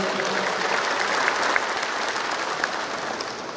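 A graduation audience applauds steadily at a university ceremony, dense clapping from many hands sustained throughout without a break.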